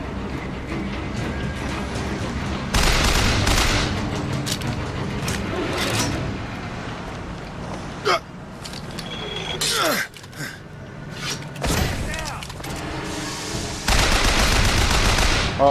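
Sustained gunfire in BioShock Infinite, loud bursts of automatic fire alternating with short pauses and single shots, close and dense throughout.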